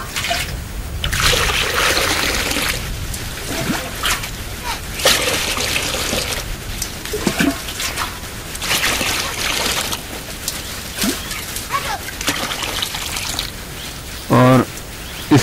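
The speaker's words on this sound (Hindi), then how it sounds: "इसमें हम बीज परीक्षण के लिए 2 लीटर पानी डालते हैं।" Two litres of water poured into a container for paddy seed testing, loud irregular splashing and trickling bursts continuing throughout, with a brief sharp sound near the end.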